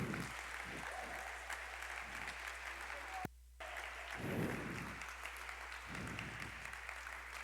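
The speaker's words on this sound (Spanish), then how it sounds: "Dale un fuerte aplauso a Dios." A church congregation applauds at a sermon's call to applaud God, with several swells of clapping from a crowd in a large room, briefly cut off by a short silent gap midway.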